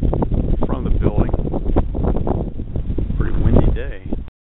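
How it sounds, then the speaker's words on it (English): Wind gusts buffet the microphone outdoors on a building's rear deck overlooking a valley with orchards, a loud continuous rumble with people talking underneath. "Pretty windy day."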